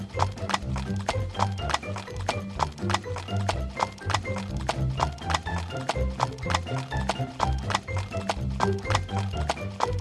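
Horse-drawn cart rolling along a village road, hooves clip-clopping in a steady rhythmic beat over a dense layered backdrop, with a brief whinny-like tone, no speech.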